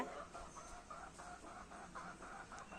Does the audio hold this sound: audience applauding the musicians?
no